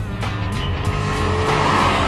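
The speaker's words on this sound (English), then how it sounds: "the NSX is no slouch off the line. With its engine sounding much like a Honda Formula One car" An Acura NSX sports car, its engine likened to a Honda Formula One car, accelerates hard off the line: a loud, close, continuous engine roar with dense harmonics and no talking.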